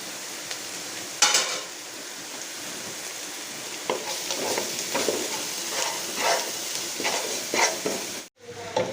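Onions frying in a pan with a teaspoon of salt for chicken kadai, a steady sizzle broken by repeated scraping stirs of a spoon, close and fairly quiet.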